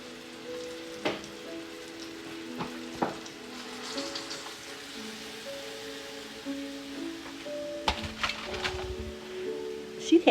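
A seared pork loin sizzles in a hot pan with a steady crackling fry, broken by a few sharper pops and spatters, while faint tonal sounds run underneath.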